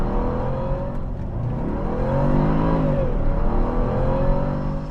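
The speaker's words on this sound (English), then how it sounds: "lots of wheel spin." A 2010 Jaguar XFR accelerates hard with wheel spin, its engine revving loudly and rising steadily in pitch over several seconds with a continuous roar and whir.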